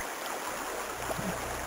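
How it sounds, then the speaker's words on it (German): A steady rushing waterfall in the Amiga CD adventure game Erben der Erde, a continuous broadband wash of falling water holding at an even, moderately loud level with no talk. "hier war der Wasserfall."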